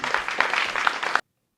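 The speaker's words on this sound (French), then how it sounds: "Merci beaucoup, on les applaudit." Audience applause on a French elimination show, a brief burst of dense clapping lasting just over a second before cutting off abruptly to silence.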